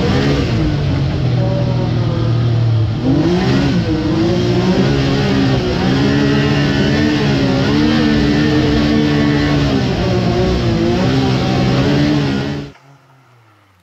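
A two-stroke Textron Wildcat XX snowmobile engine revs hard and close, the pitch climbing and falling as the throttle opens and closes, then it cuts off abruptly near the end.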